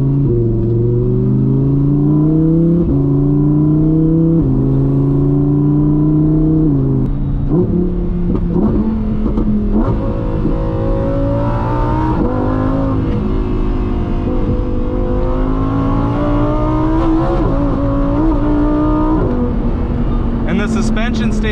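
Lamborghini sports car engine running steadily while driving, with a loud continuous drone whose pitch rises and falls through gear changes made with paddle shifters, someone talking over it throughout.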